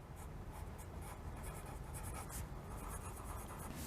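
A pen writing a short sentence on paper, a continuous soft scratching of strokes close by, with no talking.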